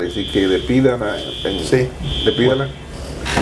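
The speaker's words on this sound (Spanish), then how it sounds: "esa es la alarma del edificio anunciando de que hay un problema" A building fire alarm sounds as a steady high electronic tone running through most of the moment, continuous beneath ongoing conversation in Spanish that dominates the foreground.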